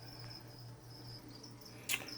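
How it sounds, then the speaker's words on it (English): Faint, steady chirping from about 500 feeder crickets trills in a quiet room, with a low hum beneath and a brief soft knock near the end. "this is how I keep my crickets. As you can see, there's maybe about 500 crickets in here."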